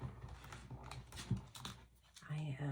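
Crisp papery riffling and clicking of tarot cards being shuffled close by, in quick bursts, with a voice talking over it.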